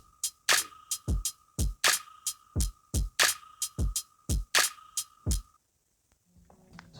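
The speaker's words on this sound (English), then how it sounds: "the drum pattern should sound something like this." Programmed beat drum pattern with sharp, evenly spaced snare and hi-hat hits over a sustained tone, a steady loop of about fifteen strikes that stops abruptly near the end.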